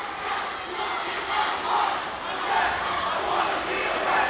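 Rival student cheer sections roar back and forth at a girls' high school basketball game between Valley and Warsaw, a dense, sustained wall of crowd chanting and cheering that swells and dips without letup.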